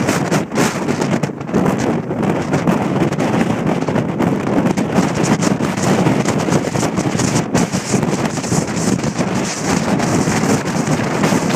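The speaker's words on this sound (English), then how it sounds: "I hope that you can hear how strong the wind is" Strong wind roaring over the microphone on the Mount Washington summit in winter, a loud, continuous buffeting rush with constant gusty fluctuation and no voices.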